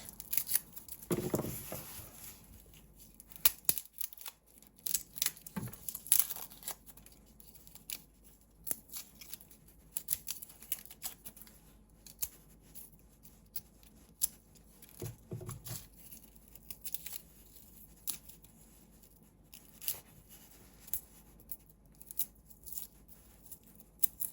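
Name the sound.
peeling garlic cloves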